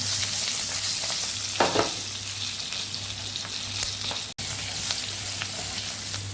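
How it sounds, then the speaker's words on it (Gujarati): Stuffed chilies sizzling and sautéing in a pan, a steady close crackle with a low hum underneath and a brief scraping stir partway through. "આવી રીતે ફેરવી અને બધી સાઈડ સરસ સાતળી લેવાના છે"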